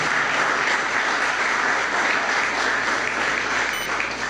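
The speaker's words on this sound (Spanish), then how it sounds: "Un aplauso también a Hernando." A crowd at an official government ceremony breaks into continuous, full applause, loud and even throughout with no speech on top.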